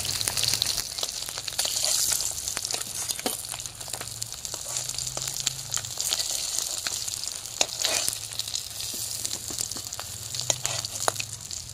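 Pieces of rui fish frying in hot oil give a continuous dense sizzle, with scattered sharp spatters and pops throughout, close and fairly loud.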